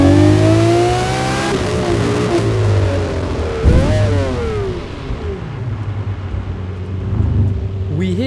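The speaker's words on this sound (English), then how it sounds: "We hit the maximum RPM, tried to shift into second gear, but it dropped into neutral instead." A car revs hard up to maximum RPM, then the engine note drops away as the failing transmission slips into neutral during a shift to second gear, loud and continuous with a rising then falling pitch.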